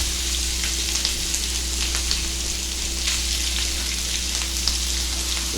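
Shrimp sizzling in a little olive oil in a hot skillet, a loud, steady crackling fry with constant spitting and a low hum underneath, no talking.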